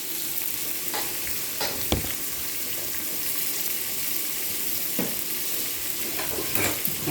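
Fish fries in oil in a pan, giving a steady, close hiss and crackle of sizzling with occasional sharper pops and light clinks as it cooks, with no voices.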